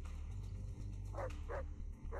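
A dog in the video game Far Cry 3 barks three times in short, fairly spaced bursts, quiet and somewhat distant over a low steady background hum.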